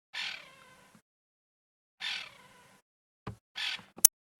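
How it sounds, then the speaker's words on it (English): Crested francolin giving harsh alarm calls in the African bush at sunset, heard as three separate raspy bursts with long quiet gaps between them, and a sharp click near the end. "this is a crested francolin, and what this bird is doing is it's alarm calling"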